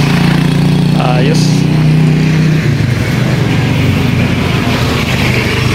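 Engine of a Rusi Chariot 175 tuk-tuk, whose connecting rod was recently repaired, runs loud and steady with a rough, buzzing drone. Brief talk is heard over it.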